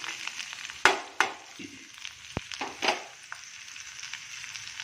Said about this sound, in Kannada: ಇದು ಸ್ವಲ್ಪ ಬಾಡಲಿ ಒಗ್ಗರಣೆಯಲ್ಲಿ ತರಕಾರಿಗಳು